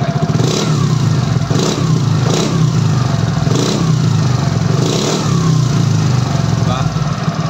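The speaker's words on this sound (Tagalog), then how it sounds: "Tapos galitin natin yung tambot." A Suzuki Burgman scooter fitted with a replica Pro exhaust pipe revs up close, its loud engine drone rising in several pulses. Someone talks over the engine noise.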